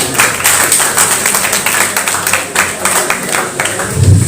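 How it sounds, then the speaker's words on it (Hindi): Audience applause at an Eid Milan mushaira poetry gathering, steady dense clapping from a crowd sustained for several seconds at moderate loudness. "सबके लिए एक बार जोरदार तालियां बजाएं"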